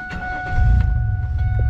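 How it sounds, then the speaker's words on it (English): A Pontiac Grand Prix under restoration idles right after being started, a low steady engine rumble that swells after a brief starter sound, close and fairly loud. "Lastly, we're going to go turn the car on, turn the heat on, and let all of this fluid circulate around the engine"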